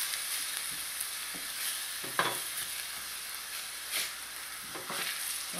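Onion frying in a pot of locro de res, with a steady hiss of sizzling oil and occasional scraping clicks as a spoon stirs the pan, close and moderately loud with no voices.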